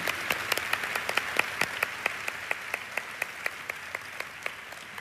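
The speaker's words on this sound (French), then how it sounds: "Nous allons applaudir nos internautes qui regardent par streaming." Scattered, fairly steady hand claps from an audience at a church service, sounding thin and sparse as if only a handful of people are clapping over light room noise.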